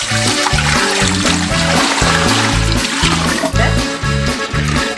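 Water poured into a large pot for a bain-marie in a home kitchen, a loud close splashing and gurgling stream with rhythmic glugging pulses lasting several seconds.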